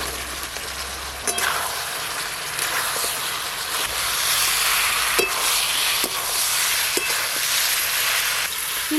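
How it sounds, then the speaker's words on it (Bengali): Fried chicken pieces are stir-fried in a pan with soy sauce and green chilli sauce for chilli chicken, giving a loud, steady sizzle with periodic sharp clinks and scrapes of a spatula. "এবার ভেজে রাখা চিকেনের পিসগুলো দিয়ে দেব।"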